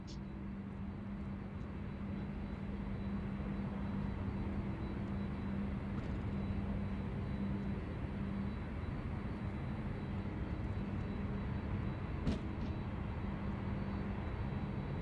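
A fixed-wing airplane lands on runway 34 left at Sydney Airport, a steady distant engine roar holding throughout with a faint low tone, no speech heard.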